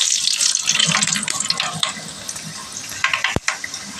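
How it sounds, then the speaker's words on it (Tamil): Fenugreek seeds sizzle in hot oil in a pan while a Tamil bitter gourd kara kuzhambu is being tempered: a steady, bright hiss of frying runs throughout, with one sharp crackle near the end. "நல்லா எண்ணெய் காஞ்சிருச்சு வெந்தயம் போட்டு தாளிச்சுக்குவோம்"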